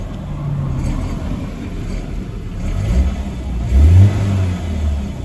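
A BMW E46 3 Series engine runs at a low, steady idle around 1000 RPM, a rough mechanical rumble with an unidentified fault noise, swelling louder for a moment near the end.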